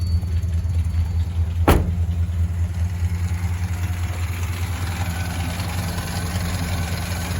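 A 2004 Suzuki Verona engine idles steadily with a low, even rumble, broken once by a brief sharp click.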